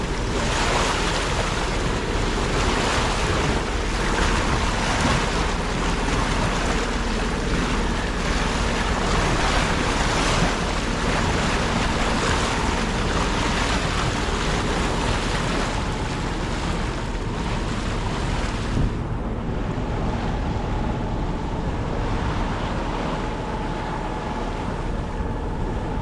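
Strong wind buffets the microphone as waves wash steadily around a sailboat riding at anchor off Marathon during a windstorm, a loud continuous roar of wind and surf with no talk.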